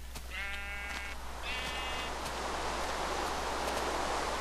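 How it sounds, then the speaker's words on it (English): A sheep bleats twice in Minecraft, two short wavering bleats close together near the start, followed by steady rushing noise like wind or rustling. "Man, is there a lot of sheep?"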